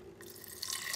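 Water running into a smoothie blender jug for a fruit breakfast smoothie, a steady close trickle and splash that grows slightly fuller toward the end, heard alone without talk.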